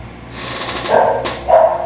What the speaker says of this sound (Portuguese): A cachorra começou a latir